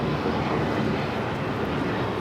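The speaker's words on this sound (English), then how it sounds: "It's United Airlines flight 2377 headed to Houston on a 737 MAX 9." United Airlines Boeing 737 MAX 9 jet at Los Angeles airport, a steady, dense engine roar without breaks, loud and close, with no voices over it.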